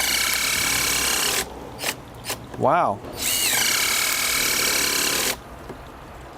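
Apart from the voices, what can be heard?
Hikoki hydraulic impact driver driving screw into hardwood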